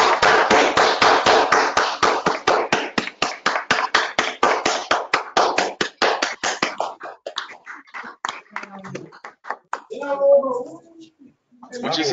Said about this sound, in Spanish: brindarle un fuerte aplauso a nuestro expositor de hoy, Omar Mendoza